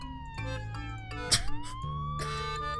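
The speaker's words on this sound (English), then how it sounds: "a police siren is playing from its speakers" A police siren sounds from a phone's small speaker, its wailing tone rising and falling across the short clip, thin and moderately loud with a brief bump of handling noise partway through.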